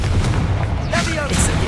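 A Confringo blasting spell explodes in Hogwarts Legacy, a single loud burst with a crackling fiery tail over steady rumbling background, close and forceful, with a spoken incantation around it.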